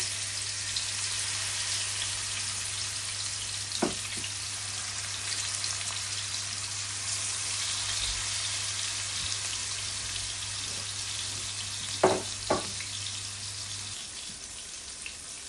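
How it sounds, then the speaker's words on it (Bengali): Fish fries in hot oil for a Bangladeshi fish bhuna, giving a steady, even sizzle with a few sharp pops and crackles scattered through it. "এইবার আমি মাছগুলোকে একটু গরম তেলের মধ্যে ভেজে নিব গোল্ডেন কালার করে।"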